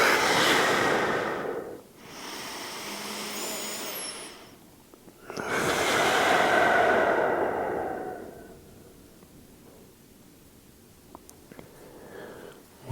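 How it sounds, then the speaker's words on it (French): Two long, deep belly breaths exhaled through the mouth during a relaxing stretching session, each a soft, airy rush lasting a couple of seconds, separated by a quiet pause and followed by near silence. "2 bonnes respirations par le ventre. Soufflez par la bouche."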